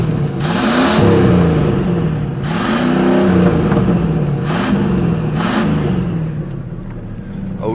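A truck engine with a new exhaust revs up and settles back four times in a row, each rise a loud, close roar with a rasping exhaust note and a low rumble between pulls.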